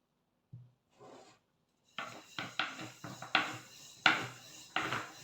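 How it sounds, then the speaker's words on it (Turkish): Pastry dough rolled out thinly by hand for a Turkish holiday dessert, heard as a series of close rasping, rubbing strokes with soft knocks, starting sparse then settling into a quick irregular rhythm. "elimizden geldiği kadar ince açalım hamurumuzu"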